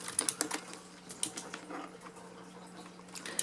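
Rapid, irregular clacks of keys on a Qwerkywriter R, a typewriter-inspired mechanical keyboard, each stroke loud and sharp up close, with no talking.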